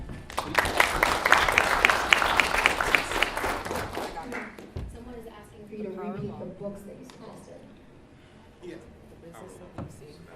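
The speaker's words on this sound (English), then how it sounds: "Round of applause for that." An audience at a startup fundraising summit breaks into dense, loud applause for about four seconds, which then fades out as a speaker begins talking over a quiet room.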